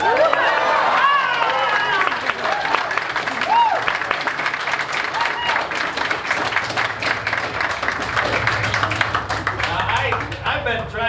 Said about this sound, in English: you do that by giving them an applause and a hoo-ha